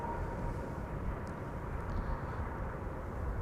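An Airbus A319 airliner gives a steady, moderately faint broadband roar near an airport, with no voices.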